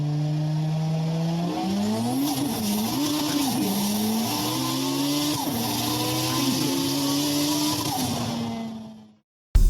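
A small car, just back from an exhaust repair, drives along the road with an engine that climbs and drops through several gear changes, loud and close, then cuts off abruptly near the end; no talking.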